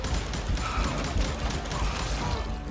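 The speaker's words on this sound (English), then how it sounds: "bullets were flying every which way as all the old feuds in Kansas caught fire all at once" Dense gunfire fills a Wild West shootout in Coffeyville, Kansas, in the video game Call of Juarez: Gunslinger, with steady overlapping shots and clattering mechanisms throughout and no voices.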